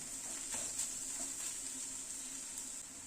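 Onion, ginger and green chilli fry in a pan with a steady, even sizzle that holds throughout, close and moderately loud, with faint stirring scrapes now and then.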